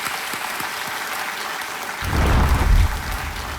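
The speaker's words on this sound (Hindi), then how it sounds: "एक बार फिर तालियों के साथ आपका स्वागत।" A studio audience on Kaun Banega Crorepati season 12 applauds to welcome a contestant, a steady wash of clapping that swells louder halfway through with a deep rumble beneath it.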